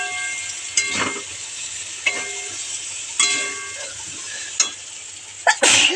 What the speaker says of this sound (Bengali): এই যে আলুর দমের মশলাটা কষে নিচ্ছি